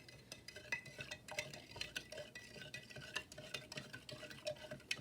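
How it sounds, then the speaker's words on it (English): A spoon stirs salt into water in a container for a salt crystal experiment, making steady, quiet clinks and scrapes in an even rhythm, close by, with no voice over it. "Now I'm going to stir it up, and there will be some crystals that don't dissolve."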